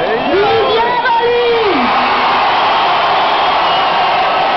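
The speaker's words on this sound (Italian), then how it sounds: "E tutti applaudono." Carnival crowd at the 2007 Ivrea Orange Battle cheering and applauding after a prize announcement for the orange-throwing teams, a dense continuous roar with whoops, loud and close, with a voice heard early over the crowd.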